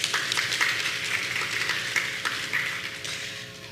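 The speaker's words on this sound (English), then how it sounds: "Let's give her another round of applause." Audience applause at a secondary school graduation ceremony, a dense patter of clapping hands with irregular sharper claps, steady and moderately loud before tapering off toward the end.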